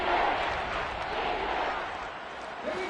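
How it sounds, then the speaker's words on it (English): A stadium crowd at a divisional-round NFL playoff game between the Saints and Buccaneers roars steadily in a dense, sustained wall of cheering and noise. "That just means this crowd's going to get even louder"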